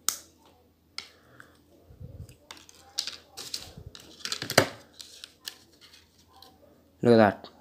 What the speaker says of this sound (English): So this I'm going to be using a wire cutter.